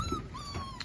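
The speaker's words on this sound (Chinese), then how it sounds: "哈士奇。" A husky at a Shandong dog market gives a brief, high, thin whimper close by, over a low murmur of market noise.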